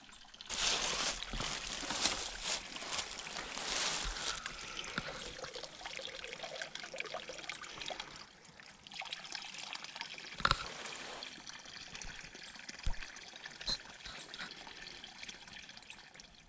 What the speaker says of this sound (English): This is some really, really clear mountain, Ozark Mountain spring water